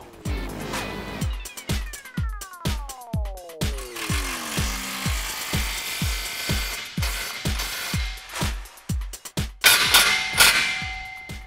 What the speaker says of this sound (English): that's gonna tighten up our last clamp here for the Carbon Competitor Series muffler